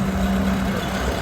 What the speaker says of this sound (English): John Deere B.